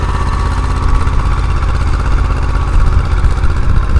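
Old Escort 335 tractor engine working hard while pulling a tiller, a loud, steady low diesel rumble and vibration running throughout with no talk.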